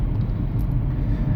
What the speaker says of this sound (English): Is that a BMW? I think that is a BMW.